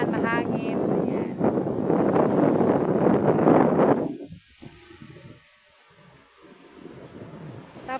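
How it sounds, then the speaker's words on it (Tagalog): Wind roars and buffets the microphone for several seconds, then eases to a softer, gusty rush outdoors at a rainy beach shore facing Aman Pulo island. "Kasi dito ngayon maulan sa amin. Ulan, mahangin."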